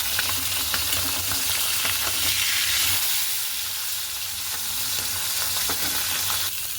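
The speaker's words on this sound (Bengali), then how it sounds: "তো এই যে একটা করে মাছ ভাজা হোক" Fish frying in oil in a pan gives a loud, steady sizzle that runs unbroken throughout, with no voices.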